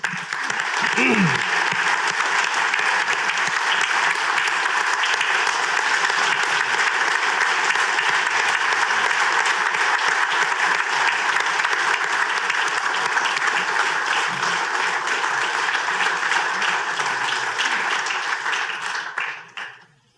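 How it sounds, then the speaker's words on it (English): At a charity gala honoring a sergeant major, the audience gives sustained loud applause with dense clapping for nearly twenty seconds before it fades out abruptly. "please give a round of applause for Sergeant Major Kevin Bittenbender."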